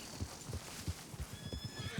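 Morgan horses in Red Dead Redemption 2, faint and steady hoof clops in a loose rhythm under low background noise, with no clear neigh standing out.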